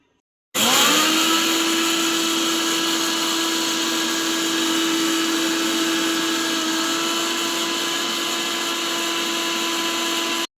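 A mixer grinder powders cumin and fennel seeds, starting abruptly and running as a loud, steady high-pitched whine for about ten seconds without pause.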